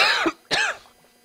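Two harsh coughs, one quickly after the other, close and loud, with a short trailing rasp.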